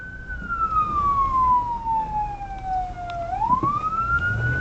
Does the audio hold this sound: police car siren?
yes